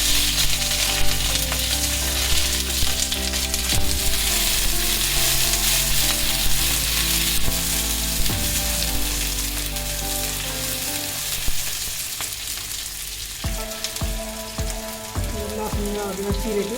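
Onions crackle and sizzle loudly in hot mustard oil for a goat belly bhutuwa, a dense close frying hiss that carries on throughout, with low background tones and a few sharp stirring knocks near the end.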